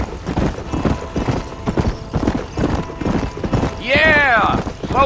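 Horse hooves clip-clop at a steady trot in the western game Red Dead Redemption, running under a man's speech, with a brief horse whinny near the end.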